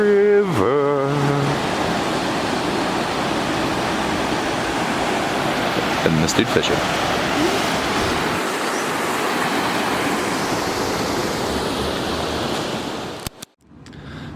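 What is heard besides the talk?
rushing river, babbling brook at campsite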